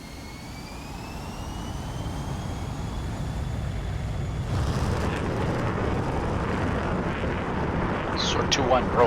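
F-16 jet engine spooling up for a takeoff roll in the DCS flight simulator, a steady broadband roar with rising whine tones that grows louder and denser partway through, with faint radio-style chatter underneath.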